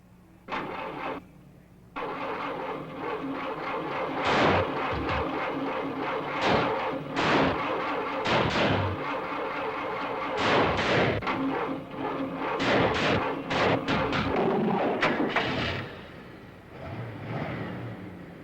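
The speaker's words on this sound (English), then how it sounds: "Start your engine, please." An older car's engine starts and runs during a 1970 teenage driving test, with rough, uneven bursts and surging revs repeating over about eighteen seconds.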